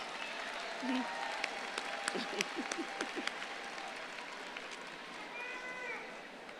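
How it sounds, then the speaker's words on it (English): Audience applause at a pharmacy school's 155th annual commencement ceremony, a moderate, steady patter of clapping that swells briefly with a few sharper claps, with faint voices and crowd murmur underneath. "Let's give a round of applause to Kevin Ricks, our name caller."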